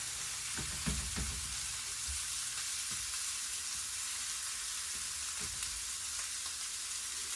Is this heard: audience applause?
no